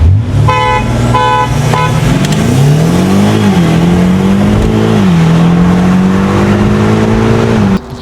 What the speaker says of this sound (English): We've gone on a private road and we've done a little bit of a drag race